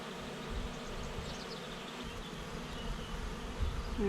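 A caught honeybee swarm buzzing steadily and close, many bees fanning pheromone in a continuous droning hum with a few nearer passes and no voices.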